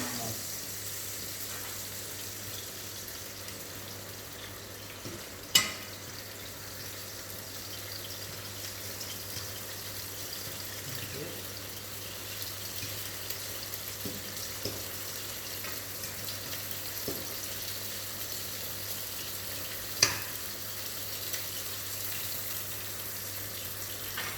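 Shrimps sizzle in extra virgin olive oil for a lemon and shrimp risotto, a steady close hiss with occasional small pops and clicks that runs unbroken for over twenty seconds.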